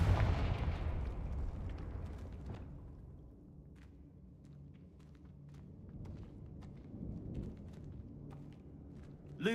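A Confringo blasting spell in the Hogwarts Legacy video game sets off a heavy explosive boom at the start that rumbles and fades, followed by quieter scattered pops and footsteps and a final sharp blast at the end.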